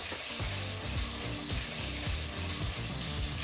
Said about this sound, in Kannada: ಈಗ ಈರುಳ್ಳಿನ ಮೀಡಿಯಂ ಫ್ಲೇಮಲ್ಲೇ ಒಂದು 3 ನಿಮಿಷ ಫ್ರೈ ಮಾಡ್ಕೋಬೇಕಾಗತ್ತೆ.